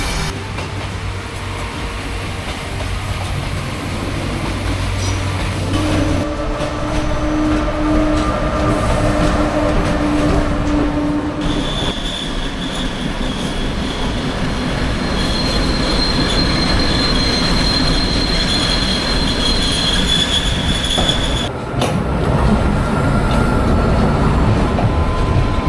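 Local and long-distance trains rumble through a busy station in Bratislava, Slovakia, in overlapping passes, with long metallic wheel squeals and steady rolling noise, loud and close throughout.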